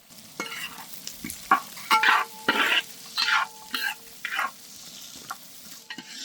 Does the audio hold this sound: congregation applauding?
no